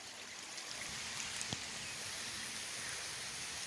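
Rain falls in a soft, steady hiss with scattered patters and a single sharper drip near the middle, fairly faint and with no voices.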